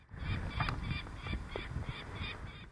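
Peregrine falcons near their cliff nest on a cape in Yakutia give sharp repeated calls about every half second, moderately far, over a low murmur of wind.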